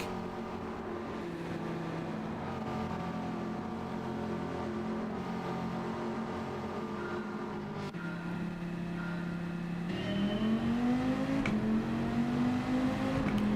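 Race car engine in Gran Turismo 7, a Group 4 car at Catalunya, droning steadily at high revs with a rising pitch near the end, continuous and fairly loud with no talk.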